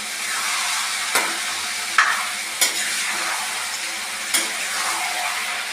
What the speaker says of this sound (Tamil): இந்த தக்காளி நல்லா உருளைக்கிழங்கு சும்மா லைட்டாக வதங்கணும்.